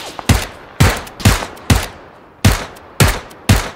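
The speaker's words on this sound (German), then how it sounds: "Schüsse, ich weiß nicht woher." Gunfire in the video game PUBG: seven sharp, loud shots fired singly at a steady pace, each with a short echoing tail.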